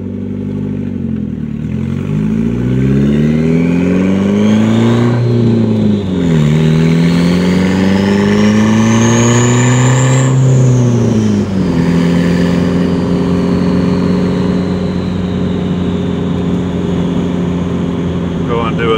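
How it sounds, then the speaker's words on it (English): A car fitted with a new open exhaust revs and accelerates hard, engine pitch climbing and dropping with each gear change, loud and close throughout with voices in the background. "Go and do a third gear rip."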